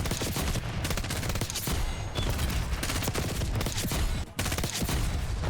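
Rapid, dense automatic gunfire from the Black Ops 6 video game, loud and nearly continuous with overlapping bursts for several seconds and only a brief break near the end.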